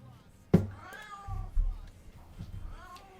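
A house cat meows insistently right beside a chess streamer, giving two drawn-out, wavering meows close to the mic over a low background hum and a sharp thump.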